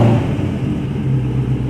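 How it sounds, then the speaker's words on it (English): Already-warm Dodge Scat Pack Widebody engine idling after starting, a loud low rumble that holds steady for a moment with no talk. "we're going to start the car"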